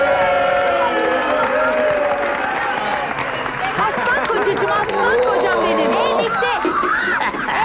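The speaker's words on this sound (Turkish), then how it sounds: "İç iç alkış alkışlar." A lively crowd at a Romani wedding-style gathering claps and cheers, dense applause mixed with shouting and chatter, loud and continuous from start to finish.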